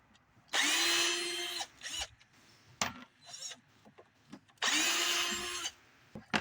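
A power drill drives screws into wood in two long whirring bursts of about a second each, close and loud, with shorter revs, clicks and handling noises between them.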